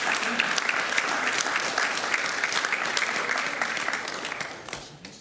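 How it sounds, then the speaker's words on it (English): Attendees at a school board meeting give a round of applause, steady dense clapping from a room of people that fades out near the end. "Let's give her a round of applause, too."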